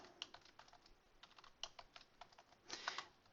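Someone types on a computer keyboard while writing VBA code in Access 2013, with quick, uneven key clicks at close range, quiet and alone, with a brief faster flurry near the end.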